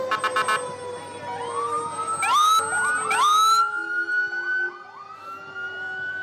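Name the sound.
fire department ambulance siren at holiday parade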